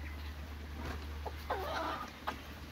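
A hen gives a few short clucks at close range among other farm birds, the calls coming in brief bursts over a steady low background hum.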